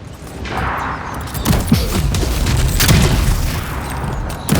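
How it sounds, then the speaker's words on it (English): Gunfire in the fantasy video game Avowed, a burst of loud, close shots and booming impacts crowding together over a couple of seconds amid combat noise, with no talk. "Quit shooting at me."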